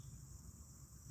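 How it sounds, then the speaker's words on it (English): Crickets chirp in a steady, faint outdoor hum at night by a fountain, with a soft low rumble beneath and no voices. "Crickets are doing their job helps."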